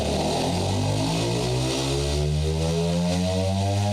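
A simulated car engine in Engine Sim revs continuously, its pitch climbing smoothly and steadily for the whole stretch, loud and droning with no voices over it.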